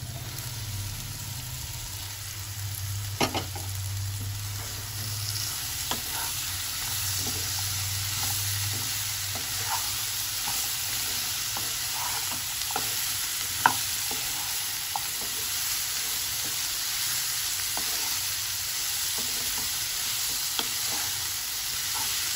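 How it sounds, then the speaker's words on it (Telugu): Bottle gourd pieces frying in a pan, a long steady sizzle with intermittent spatula scrapes and clicks as they are stirred, a low hum at the start, with no voices. "ఇప్పుడు సొరకాయ ముక్కలు వేసేద్దాం."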